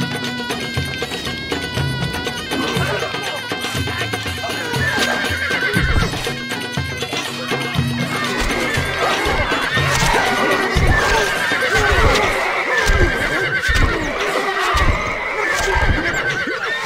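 Horses neighing repeatedly over rapid hoofbeats in the game Stronghold Crusader, with a busy layered background of other game sounds and music; loud and continuous.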